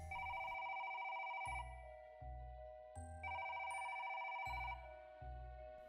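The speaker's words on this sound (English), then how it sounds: "the phone was ringing." A telephone bell rings in repeated bursts, two long trills separated by short pauses, clear and fairly close, with no voices.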